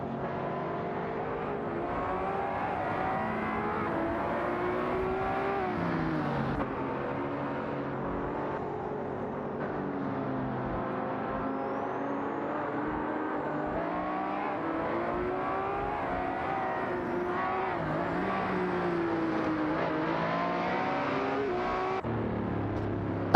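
Race car engines drone and rev continuously in a racing video game, with shifting pitch sweeps as the cars accelerate and pass, loud and steady across the whole stretch.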